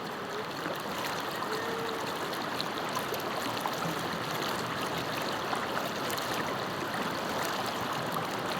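A river in Leyte flowing steadily, a continuous broad rushing and trickling of water close by with no pauses, loud and even throughout.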